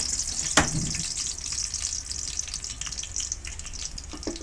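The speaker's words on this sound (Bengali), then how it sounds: "এরপর সেই তেলের মধ্যে রসুন দিয়ে দিয়েছি, থেতো করা রসুন।" Crushed garlic frying in hot oil in a pan, a steady close hiss and sizzle with one sharp tap early on, continuing evenly without talk.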